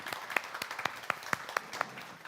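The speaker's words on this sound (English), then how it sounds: "if we can give a round of applause for our guests" Faint, sparse clapping from a small audience greeting guest speakers at a panel on Indigenous fashion and technology, about ten distinct hand claps in an uneven rhythm over two seconds.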